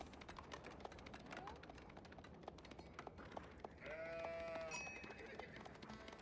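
Sheep in the strategy game Age of Empires 4 bleat in short wavering calls over a busy backdrop of game sounds and a commentator's voice, with one longer, clearer bleat near the end.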